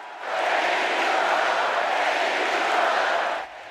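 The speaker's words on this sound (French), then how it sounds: "Pendant plus de 3 minutes, Joe Biden est ovationné par le public" A large crowd at a Democratic Party convention gives Joe Biden a sustained ovation, a dense, even roar of cheering that swells in and holds for several seconds before dropping off.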